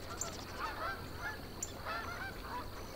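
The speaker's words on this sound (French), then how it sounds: "des milliers de bernaches du Canada et d'autres oiseaux migrateurs font halte ici pour reprendre des forces et se reposer" Canada geese honk in wetlands, several nasal calls repeating at irregular intervals at moderate distance over a soft, steady background hiss.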